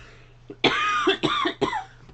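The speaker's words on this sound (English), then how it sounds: "I'm going to have a coughing fit." A woman breaks into a harsh coughing fit, three loud hacking bursts close to the mic, each followed by a brief gasp, with nothing else around them.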